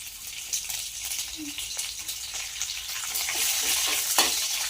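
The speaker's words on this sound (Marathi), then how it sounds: "यानंतर आपण आता कढीपत्ता जो आहे तेलामध्ये टाकून घेऊया" Curry leaves dropped into hot oil with cumin sizzle and crackle steadily while being stirred in a pan for Mumbai-style batata poha, a moderate, continuous frying hiss with a few sharp pops near the end.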